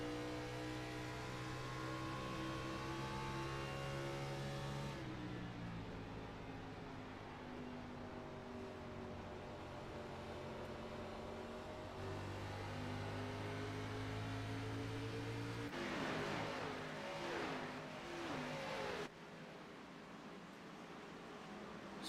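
Stock-car engines in an Xfinity Series sim race at Phoenix, played in a racing video game, whine and rise in pitch as cars come off the corner on throttle, with repeated gear-shift drops and a burst of tire and contact noise late on.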